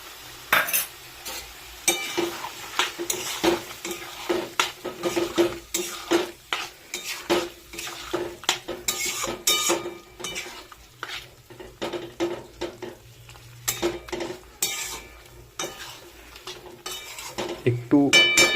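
Chicken and ground spice paste fry in a pan while a spoon stirs them, producing steady, close scraping and clinking strokes in an uneven rhythm over a soft sizzle.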